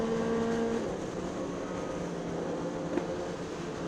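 A motorcycle passes on a road while a sport bike rides along, heard as a steady engine drone with a faint rising pass near the end; no talking.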